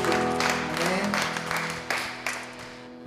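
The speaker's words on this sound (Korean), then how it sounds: "박수 올려드리겠습니다." A congregation at a Korean Wednesday evening praise and prayer service claps in a steady burst of applause, moderately loud and blended with sustained musical tones.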